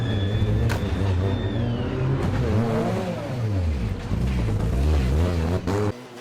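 A race car engine drones and revs loudly up close as the car pulls out of the pit lane and onto the track, with pitch swelling and dropping through gear changes.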